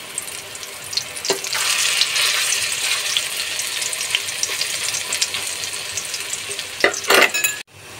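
Raw banana kofta balls fry in hot oil with a steady, fairly loud crackling sizzle and a few sharp clatters near the end.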